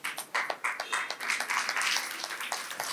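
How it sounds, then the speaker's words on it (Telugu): A crowd claps at a Sri Anjaneya Swamy temple ceremony in Chikadpally, opening with a few scattered hand claps that quickly thicken into dense, steady applause from a nearby group, with faint voices underneath. "క్లాప్స్ కొట్టవలసిందిగా కోరుతున్నాను"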